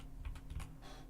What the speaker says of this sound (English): Goddamn fucking keyboard.